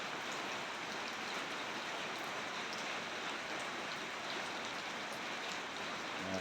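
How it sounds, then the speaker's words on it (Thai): Steady rain falling at night in late February, a dense, even hiss of drops on surfaces that holds at a constant level throughout, with no voices. "มีฝนตกแล้วบานเฮา"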